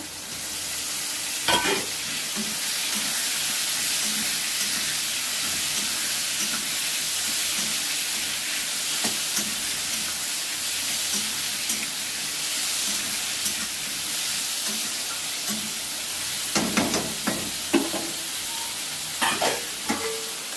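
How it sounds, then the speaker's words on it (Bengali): Potatoes fry with green chillies and tomatoes in a pan for a fish curry, producing a loud, steady sizzling hiss close up, with occasional sharp clatters of a spoon stirring against the metal. "আলুগুলো ভেজে নেব ভালো করে। এবার কাঁচা লঙ্কা আর টমেটো দিয়ে দেব।"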